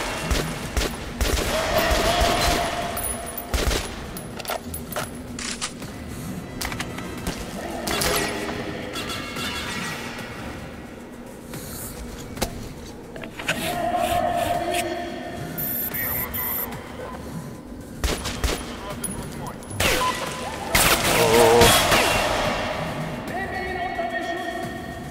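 Gunfire in the video game Metro: Last Light: repeated bursts of shots and crashing impacts scattered through a long, busy stretch of combat, with someone talking at times.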